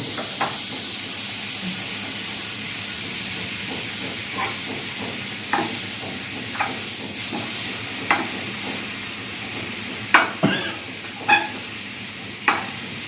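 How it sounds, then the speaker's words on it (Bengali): Butter sizzles in a pan for Mexican chicken, a constant close hiss broken by sharp spatters and pops that grow louder and more frequent toward the end, with no one speaking. "আমি আবার এখানে মাখন দিচ্ছি"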